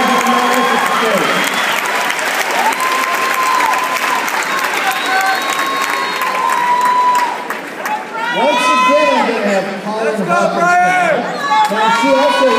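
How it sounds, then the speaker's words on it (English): A crowd at a bodybuilding competition claps and cheers for the competitors, loud continuous applause with shouted cheers, and voices calling out over it in the second half. "How about a big round of applause for all the competitors?"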